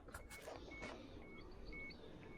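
A faint, high electronic beep repeats at a steady pace, four or five tones over quiet background rustling.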